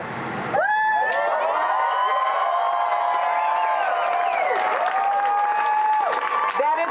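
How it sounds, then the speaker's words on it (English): A crowd outside an occupied house in Oakland breaks into sustained loud applause and cheering, with long whooping voices rising above the clapping for several seconds before it fades slightly. "Definitely reason for applause"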